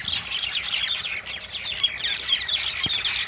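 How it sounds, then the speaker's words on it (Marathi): Large birds squabbling noisily in a tree, a dense overlapping chatter of harsh chirps and squawks that carries on without pause, fairly loud and close. "पक्षी कसे भांडू राहिले झाडावर, लय मोठे पक्षी आलेले वरती, लय आवाज चालू"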